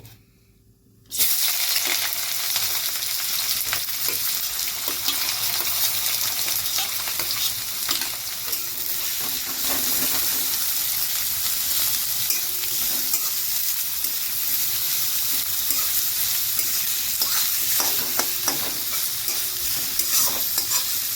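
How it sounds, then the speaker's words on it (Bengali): Chopped onions frying on low heat in hot pure ghani mustard oil for baingan bharta burst into a loud, continuous sizzle after a brief silence, with scraping stirs and small clinks throughout. "এবার আমরা আঁচটাকে কমিয়ে নিয়ে পেঁয়াজগুলোকে এর মধ্যে ভেজে নেব।"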